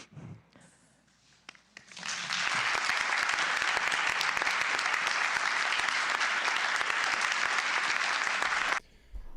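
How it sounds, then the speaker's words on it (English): A loud, sustained round of applause fills a hearing room after testimony, rising abruptly from quiet murmur and holding steady for several seconds before cutting off. "the round of applause in that hearing after that particular testimony"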